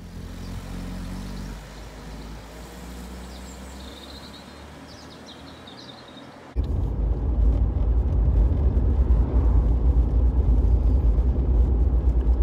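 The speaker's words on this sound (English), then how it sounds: "One turn and the car fires up and into drive." Mercedes-Benz 190E with Bosch fuel injection: quiet idle-like hum with faint birdsong, then an abrupt jump to a loud, steady engine and road roar as the car pulls away, held strong for the rest.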